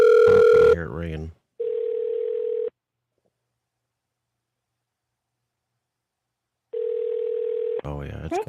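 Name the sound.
telephone ringing on an outgoing call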